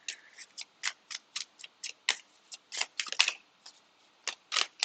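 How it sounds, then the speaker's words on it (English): Tarot cards shuffled by hand in a quiet room, a series of short, crisp riffling bursts in an uneven rhythm, close and fairly soft, with brief pauses between them. "Let's get shuffling then. And I need to shuffle more than that."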